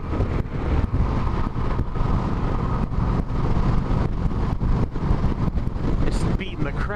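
Steady, roaring wind buffeting the rider on a Yamaha V-Star 1300 Deluxe cruiser motorcycle at highway speed on a gusty day, a constant low rumble of rushing air with engine drone underneath.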